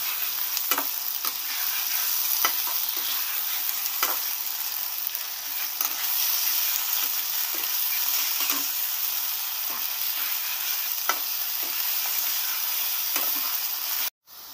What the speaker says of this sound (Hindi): अदरक लहसुन का पेस्ट और प्याज को अच्छे से भून लीजिएगा